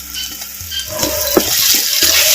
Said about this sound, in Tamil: அப்படியே சேர்த்த இஞ்சி பூண்டு விழுதுகளை நம்ம பேரன் பாணியில் அப்படியே வதக்கு வதக்கு நல்லா வதக்கி